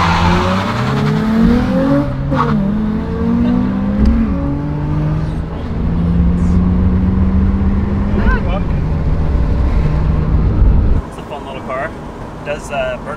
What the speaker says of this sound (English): Burnout's pretty good.